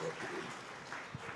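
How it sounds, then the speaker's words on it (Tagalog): A congregation clapping during a church service in San Carlos City, Pangasinan, a steady wash of many hands, moderately loud, with a voice speaking over it. "Palakpakan po natin ang ating mahal na Panginoon. Yung malakas na palakpak"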